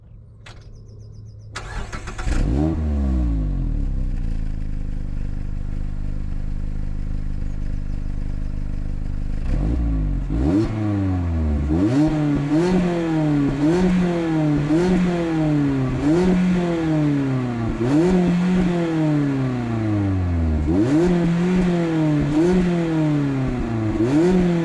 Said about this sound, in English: it will give you a good idea of what the stock exhaust sounds like